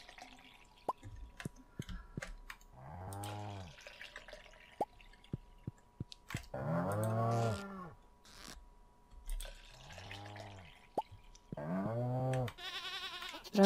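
Goats in the farming video game Stardew Valley bleat several times in a quiet barn, each cry a wavering call, separated by soft drip-like clicks.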